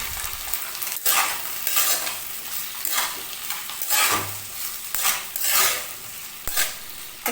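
Chopped tomatoes with salt stirred and fried in a pan while making fish Manchurian gravy: steady sizzling with repeated scraping stirs and a few spoon knocks against the pan, close and fairly loud, no talking.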